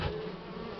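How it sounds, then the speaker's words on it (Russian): Agitated honeybees buzz around an open hive during nest expansion with wax foundation, a close, steady droning hum with no voices. "Уже злая пчелка летая"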